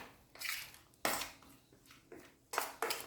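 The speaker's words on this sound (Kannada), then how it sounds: "ಇದನ್ನು ಒಳ್ಳೆ ರೀತಿ ಮಿಕ್ಸ್ ಮಾಡಿ" Gram flour batter being mixed in a bowl for a vegetable kebab, with irregular clinks and scrapes of utensil against the bowl, several distinct bursts close by.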